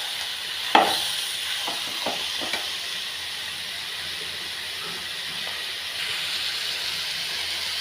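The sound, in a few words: chicken being sautéed in a pan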